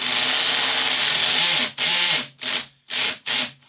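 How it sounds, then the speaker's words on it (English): A cheap cordless drill drives a small fastener, whirring steadily before its clutch slips and the motor cuts out in four short repeated bursts, loud and close. "not only is the clutch cutting out, but then the clutch is slipping and allowing it to drive"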